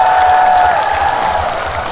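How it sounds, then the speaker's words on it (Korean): Women in the audience at a pumba performance on the main stage of a festival clap together in a loud, steady burst that fades slightly toward the end. "여자들만 박수!"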